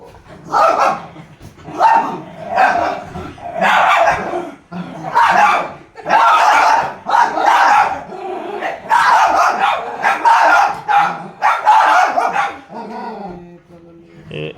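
Several dogs barking loudly and repeatedly close by in a rapid, agitated series of yaps and barks.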